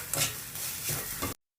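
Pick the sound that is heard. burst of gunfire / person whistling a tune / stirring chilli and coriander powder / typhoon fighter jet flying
stirring chilli and coriander powder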